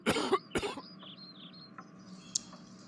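A man coughs twice in quick, harsh bursts close to the listener, followed by faint quiet background.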